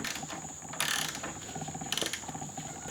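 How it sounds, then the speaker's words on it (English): A socket ratchet tightens the fork on a scooter, giving a quick, steady run of clicking pawl ratchets with brief bursts of harder turning, close up and alone. "Now we're just going to take our socket and tighten this up."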